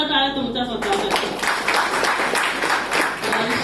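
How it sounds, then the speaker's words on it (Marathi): Audience applause for journalists at a journalists' meeting, starting after a brief voice and then swelling into steady, dense clapping that fills the rest of the moment at a moderate level. "आणि म्हणून जोरदार टाळ्या तुमच्या स्वतःसाठी"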